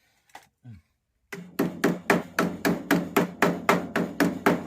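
After a couple of faint knocks, a hammer strikes a workpiece about a dozen times in an even, steady rhythm, each tap sharp, close and loud.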